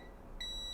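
Multimeter in continuity mode beeping while testing a diode on a phone circuit board, one sharp steady electronic tone starting halfway through and holding to the end.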